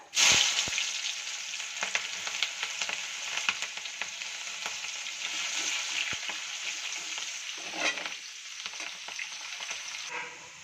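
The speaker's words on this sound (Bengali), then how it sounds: "এবার দিয়ে দেবো পেঁয়াজটা।" Onion goes into hot oil with whole garam masala spices on a low flame, bursting into a loud, close sizzle that holds steady throughout with faint stirring clatter and no talking.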